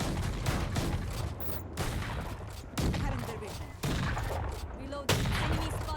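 Valorant gunfire: repeated loud volleys of shots crack through in waves every second or so, dense and close.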